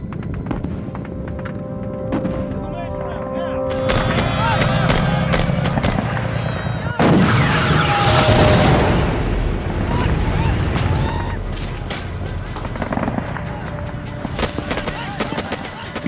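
Dense battle din from the besieged Lang Vei camp in the Vietnam War, with heavy artillery cannon fire and explosions rolling continuously, loud booms and crackling blasts layered over a sustained roar.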